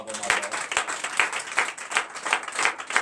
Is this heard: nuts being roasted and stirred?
no